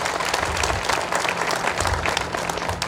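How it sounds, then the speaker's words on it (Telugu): An audience at a Hindu gathering claps loudly after a Telugu speech, a dense sustained burst of many hands applauding together, steady and close for the whole stretch. "మీరు ఒకవేళ దీన్ని యాక్సెప్ట్ చేస్తే ఒక్కసారి గట్టిగా చప్పట్లు కొట్టాలి"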